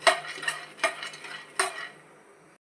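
Peanuts for chutney are stirred in a frying pan, with repeated scraping strokes of a spoon against metal over a light sizzle, close up and without talk, fading out near the end.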